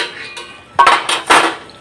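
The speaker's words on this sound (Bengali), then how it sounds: "ঢাকনাটা খুলে দিচ্ছি" A lid comes off a frying pan while ridge gourd fries, giving two quick metallic clanks over a soft background hiss.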